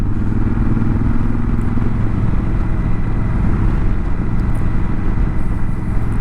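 A Honda Africa Twin motorcycle rides along at steady speed, its engine drone loud and continuous with wind rush and road clatter, no voices over it.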